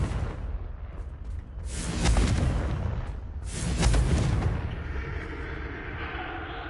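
Fiery spell explosions from the Confringo curse in Hogwarts Legacy, two swelling booming bursts a couple of seconds apart over a steady rumbling background, fairly loud and without talk.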